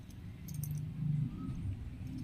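A bunch of keys jangles close by in a few light metallic clinking bursts, over a low background hum.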